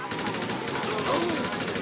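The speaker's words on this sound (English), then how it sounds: "The gunplay in GTA 5 is absolutely phenomenal." Rapid automatic gunfire in the video game GTA 5 rattles in a fast, even burst of repeated shots, loud and continuous throughout.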